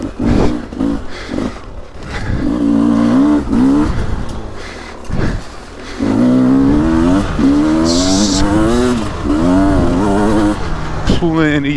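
A 2023 Beta 300 Race Edition two-stroke dirt bike ridden on a GP loop, the engine revving and pulling hard in rising and falling bursts, loud and close, with someone talking over it at times.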